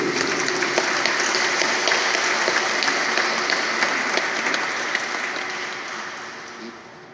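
Congregation applauding during a Catholic mass in a church, a steady, moderately loud clapping wash that stays even and gently tapers toward the end.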